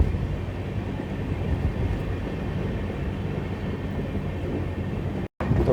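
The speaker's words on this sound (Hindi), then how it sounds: "समय से लगभग 10 मिनट की डिले के साथ पहुंच रहे हैं हम बासर रेलवे स्टेशन पे।" Single-line electrified railway at Basar station in India, heard from aboard a Narkher–Kacheguda intercity express as it arrives: a steady, loud rumble of wheels and carriage noise throughout, with a brief dropout near the end.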